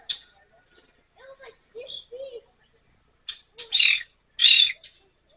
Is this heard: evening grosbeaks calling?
yes